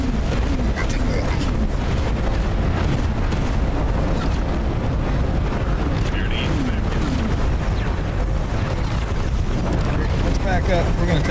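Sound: explosions damaging the ship in the video game X4 Foundations

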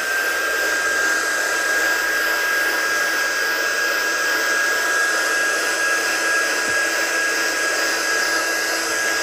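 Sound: drying crafting work with a dryer

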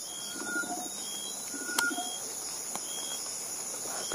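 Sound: hill myna bird calling

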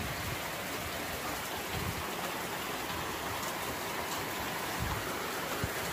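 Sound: rain falling

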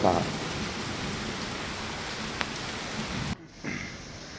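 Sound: morning rain falling

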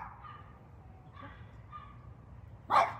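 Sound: dogs barking

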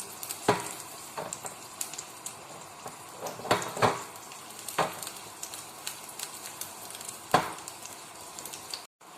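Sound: garlic frying in desi ghee for coconut chutney

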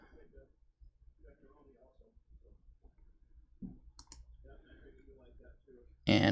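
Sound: computer mouse clicking a download link

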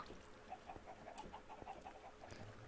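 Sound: chickens clucking in a video game

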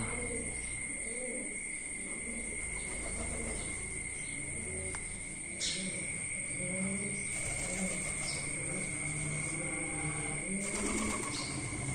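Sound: birds calling

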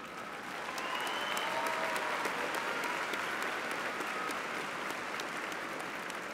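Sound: graduation audience applause

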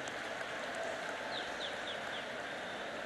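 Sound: audience applause welcoming the Vice President

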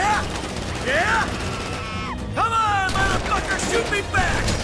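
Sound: gunfire in Grand Theft Auto video game

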